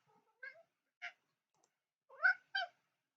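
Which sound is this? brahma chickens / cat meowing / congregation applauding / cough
cat meowing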